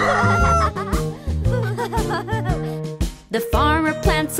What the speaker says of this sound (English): The rooster wakes him up, the rooster wakes him up.